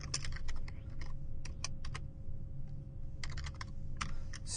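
Quick bursts of computer keyboard typing, close and clear, with short pauses between clusters of keystrokes over a steady low background hum.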